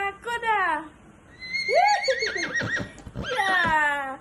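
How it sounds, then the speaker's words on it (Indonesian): A horse neighs in a third-grade classroom lesson on transportation, with three loud, close whinnies rising and falling in pitch, separated by brief pauses. "suara kuda."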